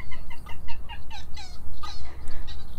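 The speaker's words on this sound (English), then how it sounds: "The Everglades is a diverse ecosystem that contains hundreds of species of wading birds." Wading birds in the Florida Everglades wetland give repeated sharp, loud calls in quick irregular bursts over a steady low rumbling background, no speech.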